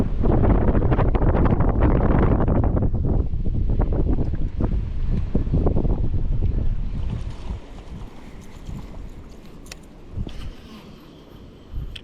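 Strong wind gusts buffet the microphone over open water on a windy day of bass fishing from a boat in the Delta, loud and roaring for the first seven seconds, then easing to a steadier, fainter rush with occasional gusts.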